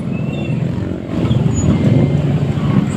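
Road traffic noise heard from a moving tricycle in Barangay Capri, a steady loud rumble of engines and passing vehicles with no talk.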